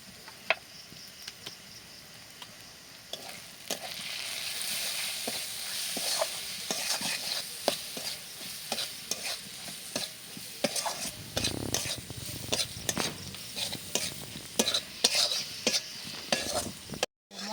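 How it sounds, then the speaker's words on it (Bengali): A spice masala with Kashmiri chilli powder, salt and turmeric stir-fried in a pan for chicken do pyaza, with a soft steady sizzle and many quick scraping and tapping spatula strokes throughout. "মশলাটাও খুব ভালোভাবে কষিয়ে নিয়েছি"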